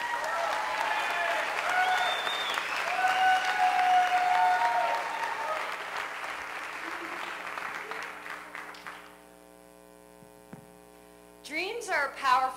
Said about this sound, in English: please give a big round of applause for Katie Mason